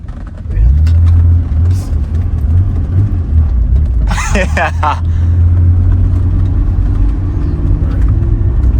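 A 3.0-litre R31 Nissan Skyline engine hums low and steady, rising into a louder, rougher rumble as it accelerates, with a brief burst of voices partway through.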